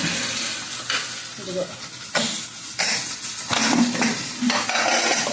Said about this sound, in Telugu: పసుపు వేసాను కదండి వేగుతూ ఉంది